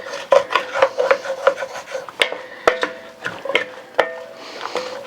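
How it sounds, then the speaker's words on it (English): A utensil scrapes and rasps across the bottom of a pot of cooking vegetables for chicken and dumplings, loosening the browned fond in repeated close strokes with small clanks, and no one talks. "Make sure you scrape the bottom,"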